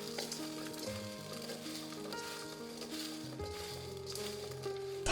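Radish cubes stirred with coarse salt and sugar in a large bowl, heard as a soft continuous scraping and rustling that is close but quiet, with some tonal background sound underneath.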